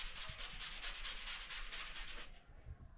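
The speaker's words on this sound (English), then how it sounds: "got a little sandy sponge with a little bit of sanding" A sanding sponge scrubbed back and forth over a rough, textured interior wall, giving a close, steady series of rhythmic rasping strokes for about two seconds before stopping, with no voices.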